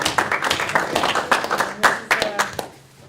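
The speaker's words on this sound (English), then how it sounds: "why don't we give everybody a round of applause for doing it?" A short burst of clapping from a small group, brisk and uneven, fading out near the end.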